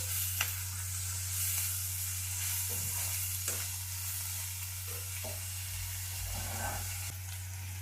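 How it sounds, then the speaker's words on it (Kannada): Crushed garlic roasting in a pan for black-eyed bean curry, a steady close sizzle running throughout with occasional stirring scrapes, under a constant low hum. "ಬೆಳ್ಳುಳ್ಳಿ ಸ್ವಲ್ಪ ಜಜ್ಜಿ ಇಟ್ಕೊಂಡಿದ್ದೀನಿ ಇದನ್ನು ಸ್ವಲ್ಪ ಕೆಂಪಾಗಲಿ ಬ್ರೌನ್ ಕಲರ್ ಬರೋವರೆಗೂ ಸ್ವಲ್ಪ ಹಿಂಗೆ ರೋಸ್ಟ್ ಮಾಡ್ಕೊಳ್ಳೋಣ"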